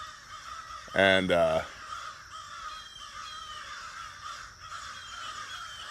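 Loud harsh crow caws burst out in a short run of rapid calls near the start, then fade into quieter outdoor background with faint voices.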